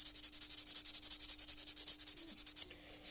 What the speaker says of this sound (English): just sand it.